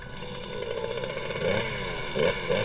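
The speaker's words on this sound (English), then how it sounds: "A chainsaw was the only tool for the job." A small chainsaw engine buzzes and whines steadily, surging in pitch a couple of times as it cuts through earthquake rubble during a rescue, with no talking.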